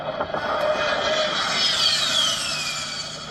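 A fighter jet flies overhead with a loud, sustained roaring whine whose pitch sweeps down as it passes, heard alone without talking.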